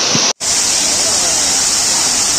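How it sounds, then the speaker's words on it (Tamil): Main waterfall at Courtallam falls roars as a dense, steady wash of falling water, loud and unbroken apart from a brief cut near the start. "ஸோ இப்போ நீங்கள் பார்த்துட்ருக்கிறது தான் மெயின் ஃபால்ஸ்"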